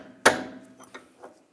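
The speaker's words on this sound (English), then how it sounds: "I'm just going to give a tap right here with a punch just to separate it from the differential" A metal punch struck against a rear wheel hub to break it free from the differential on a 2009-2017 Volkswagen Tiguan: one sharp, close metallic tap followed by two fainter knocks.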